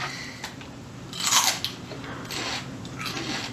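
A crunchy, candy-like snack is bitten and chewed at close range, with one sharp crunch followed by softer, scattered chewing crackles over a quiet background.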